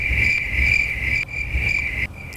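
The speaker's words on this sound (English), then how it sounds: "Crickets." Crickets chirp in steady, continuous trills, loud and close, with two short breaks in the sound and no other noise over them.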